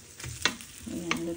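Frozen beef pieces fry in a hot pan for a homemade pepper lunch, a quiet steady sizzle with a couple of brief scrapes or stirs, nothing else audible.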